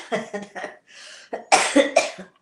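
A series of coughs, several sharp bursts at close range, with harsh throaty spluttering between them.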